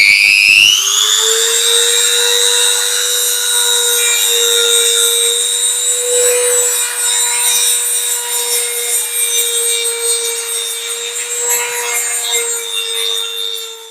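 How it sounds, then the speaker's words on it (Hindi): A mini rotary tool runs a sanding drum against wood, starting with a rising whine that settles into a loud, steady high-pitched drone with a rough grinding texture throughout. "अब हम जरा इसे घिसाई करते हैं।"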